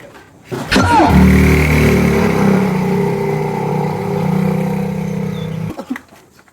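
A motorbike engine revs up close and steady, then pulls away as the bike is ridden off, holding a continuous mid-pitched drone for several seconds before cutting off abruptly.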